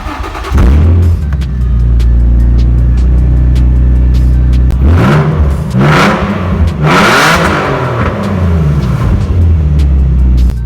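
An Infiniti G35 engine with a broken exhaust idles with a low rumble, then revs hard several times, a raspy, loud, uneven roar rising and falling close by.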